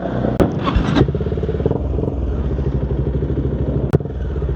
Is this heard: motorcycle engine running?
yes